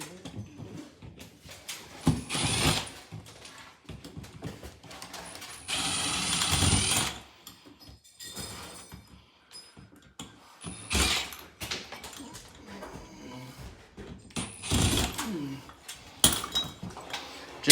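Two screws are worked loose from a ceiling light fixture, heard as several short bursts of mechanical whirring and clicking, with quiet handling noises and pauses in between.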